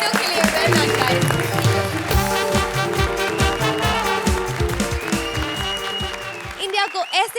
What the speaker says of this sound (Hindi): जोरदार तालियां हो जाए इन तीनों के लिए